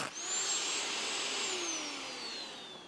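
A dust extractor with a HEPA filter, paired with an SDS drill, whirs up into a steady high-pitched suction whine that slowly falls in pitch over three seconds, close and fairly loud.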